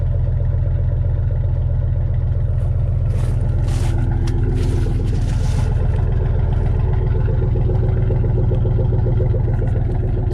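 Exhaust of a 2004 pickup with a 5.3L V8, longtube headers, one hollowed-out catalytic converter, a Flowmaster Super 10 muffler and dual 2.5-inch tailpipes without tips, idling in a loud, constant low rumble that swells slightly partway through.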